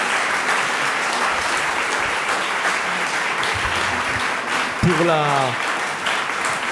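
An audience at a talk on laïcité applauds throughout with sustained clapping, while a voice speaks in French over it and a brief tonal sound rises near the end.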